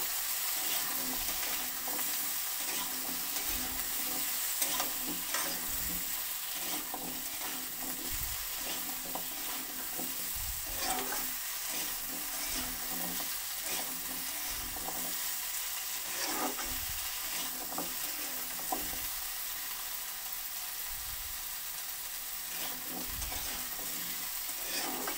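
Small cut pumpkin pieces frying in a pan and being stirred, a continuous soft sizzle broken by regular scraping stirs, fairly quiet and close with no talking.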